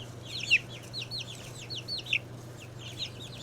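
Young backyard chickens in a garden clucking and peeping, a run of soft high chirps and short clucks from a few birds close by over a low steady hum, no talking.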